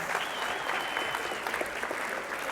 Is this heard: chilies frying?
no